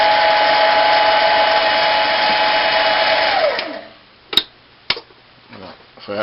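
A Harbor Freight 7x10 mini metal lathe running at 600 RPM under power feed makes a loud steady whine, then winds down and stops, followed by a few sharp clicks and knocks, heard close.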